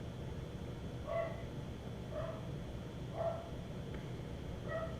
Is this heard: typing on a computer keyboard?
no